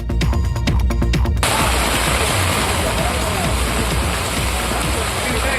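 Heavy rain pouring down in Pernambut, Vellore, where floodwater has entered houses, a loud continuous hiss of downpour and splashing water, after a brief opening of other sound.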